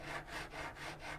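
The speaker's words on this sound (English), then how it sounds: "When you file this, you can feel it pretty rough at the beginning" A metal file strokes along the edge of a card scraper clamped in a vise, about five even rasping passes in steady rhythm, close and fairly quiet.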